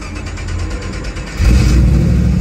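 A supercharged 1963 Chevrolet Impala restomod revs its engine, a loud close mechanical roar that swells suddenly partway through and stays strong.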